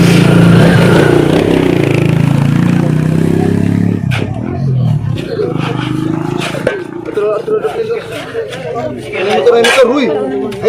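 A motorcycle engine roars loudly and steadily, later dropping into a rougher idle with clattering and revving, while people talk over it.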